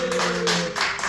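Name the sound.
audience clapping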